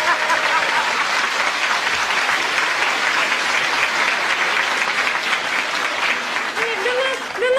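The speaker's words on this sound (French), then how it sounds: "on peut l'applaudir" Studio audience applause during a televised comedy interview, loud continuous clapping sustained for several seconds, with a voice briefly audible near the end as it starts to fade.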